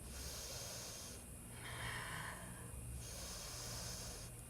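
Deep, slow breaths drawn in and out during a yoga handstand pose, heard close and fairly faint, with one long hissing inhale or exhale in the middle and no talking.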